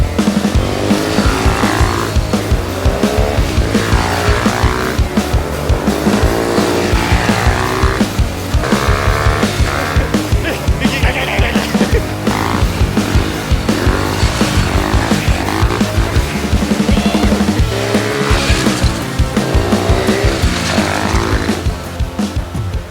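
Volkswagen Golf MK7 with a Tomei exhaust driving past and revving hard, a loud continuous engine roar rising and falling in pitch with brief tire noise, close and without talk.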